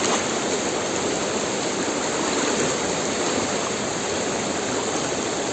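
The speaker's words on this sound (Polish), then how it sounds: "próbuje mnie rzeka po prostu przewrócić. Jest niesamowite, jak ona jest silna." A strong river current rushes steadily and loudly, a dense unbroken wash of flowing water filling the whole stretch with no voices.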